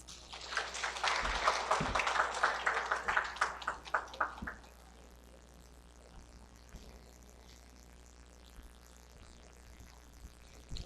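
A short burst of clapping from a small crowd lasts a few seconds, then fades to a quiet room hum.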